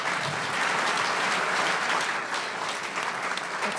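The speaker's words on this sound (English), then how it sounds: "That's for you, the applause." A room of Rotary Club members in Honolulu gives sustained, steady applause for a newly introduced member, a dense wash of clapping with no pauses across the whole stretch.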